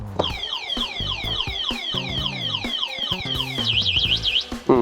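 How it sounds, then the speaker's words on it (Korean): An electric scooter's anti-theft alarm beeps and warbles in a rapid, repeating siren pattern, loud and close, cycling through chirps and sweeping tones without pause. "이렇게 경고음이 지속적으로 계속 울립니다."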